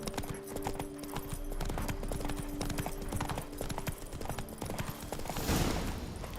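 Roach, Geralt's horse in Witcher 3, trots along a road, its hooves clip-clopping in an even, close rhythm that carries the whole time over a faint background score.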